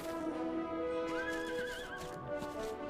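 A horse whinnies in Final Fantasy XIV, a clear rising and wavering neigh over a soft game music bed.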